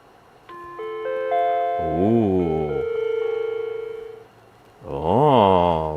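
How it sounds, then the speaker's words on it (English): A Macintosh LC II with LC ROMs swapped in plays its sad chime: a stack of stepped tones, then two warbling arpeggio phrases that rise and fall, loud and close with no talk. "We get sad chimes."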